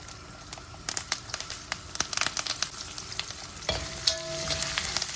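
Dried red chillies, garlic and curry leaves frying in hot oil for pudina pachadi, a close, busy crackle and sizzle with scattered sharp pops and stirring, getting louder near the end.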